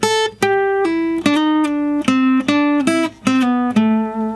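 A guitar plays a pentatonic lick slowly, about ten clearly picked notes with short slides between some of them, each note ringing before the next, loud and close with no voices.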